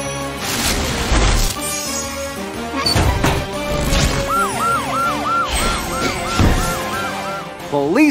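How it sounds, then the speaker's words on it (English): A cartoon police car siren wails, rising and falling repeatedly amid loud music and crashing impacts, with a brief shout near the start. "Police car to the rescue!"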